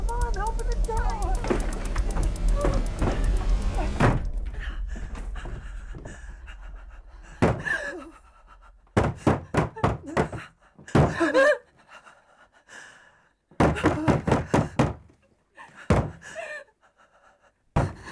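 Urgent knocking and banging on a door in a horror film, several bursts of heavy thuds separated by pauses, close and loud, following a stretch of heavy panting and broken speech.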